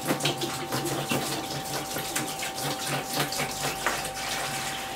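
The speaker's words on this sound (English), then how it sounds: "let's pour in our 15 litres of apple juice." Fifteen litres of apple juice pour into a vessel to make apple pear wine. The liquid rushes and splashes in a steady, loud, continuous stream with no voices.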